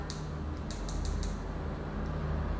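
The tailswitch of a Lumintop ODL20C V2 flashlight clicked: a few small, crisp clicks in quick succession, faint over a steady background hum, with no voices.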